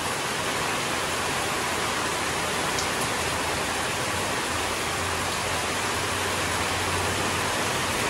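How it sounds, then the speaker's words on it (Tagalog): Heavy rain pours down in a constant, dense hiss with no pauses, loud and enveloping, like a downpour hitting surfaces all around. "at napakalakas po ng ulan. Biglang buhos na naman ng malakas."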